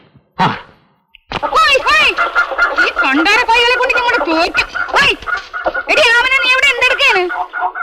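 Several chickens squawk and cluck loudly and continuously up close, an agitated chorus of fowl after a short pause at the start.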